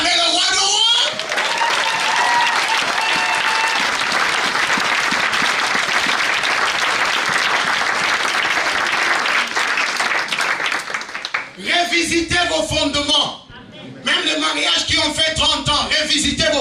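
A church congregation bursts into loud, sustained applause and cheering acclaim, dense and close, with a brief dip near the end before clapping and voices resume.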